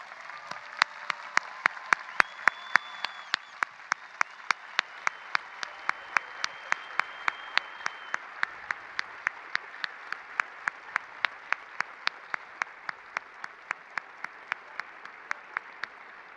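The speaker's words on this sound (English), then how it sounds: "Let's please give them a round of applause." Steady, sustained applause from a large audience at a 2022 commencement ceremony, fairly distant, with regular sharp clicks punctuating the even wash of clapping throughout.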